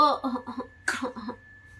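A baby gives a few short, wet coughs in quick succession, near and fairly loud, with a brief pause before a final burst and a faint high tone in the background.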